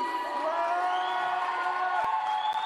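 A crowd cheers and applauds a Mauritian swimmer at an indoor pool in Madagascar, with sustained whoops and cries forming a steady, fairly loud roar throughout.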